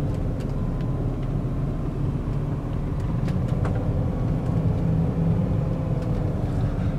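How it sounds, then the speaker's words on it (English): Heard from inside a 2000 BMW E39 M5 rolling slowly over bumps and water trays in a parking lot, a constant low engine and road drone with faint light knocks and rattles from the cabin. "And we're going over some bumps and some water trays in this parking lot."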